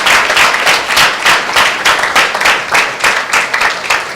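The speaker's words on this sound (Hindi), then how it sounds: "एक जोरदार ताली प्रभु यीशु मसीह के नाम से।" A church congregation at a Sunday meeting applauds loudly in a rhythmic, pulsing clap, the beats landing about twice a second like a unison clap-along, close and strong throughout.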